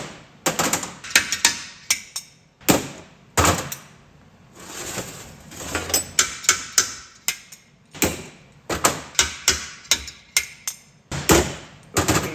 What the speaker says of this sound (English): It's got a slide hammer here with collets,